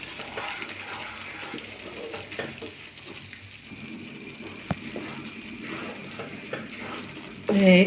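Mysore pak mixture sizzling softly in sunflower oil in a pan, with steady stirring scrapes and occasional clinks running throughout, close and fairly quiet, ending in a brief louder clatter.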